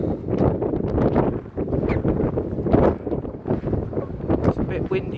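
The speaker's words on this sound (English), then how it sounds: "It's a bit windy now." Gusty wind buffets the microphone with a steady low rumble on a coastal clifftop headland at Seaford Head, and a voice is faintly audible beneath the roar.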